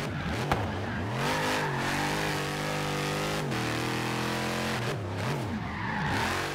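Dodge Challenger Hellcat in a rallycross build in Forza Horizon 3, a loud close engine revving and shifting through rising and falling pitch while cornering, with tire squeal and skidding, no voices.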